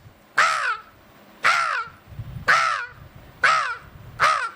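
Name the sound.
boy imitating a crow cawing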